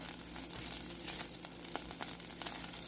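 Minced garlic sizzles steadily in hot oil in a pan, a constant close crackle broken by a few soft scrapes as it is stirred.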